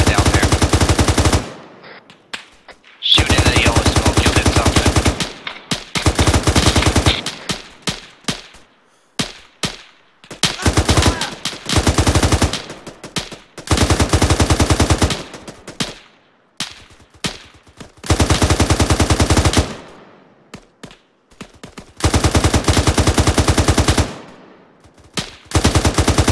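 Sustained automatic gunfire from a squad laying down suppressing fire in the military shooter Arma 3, loud and close, in repeated bursts of several seconds with short gaps between them.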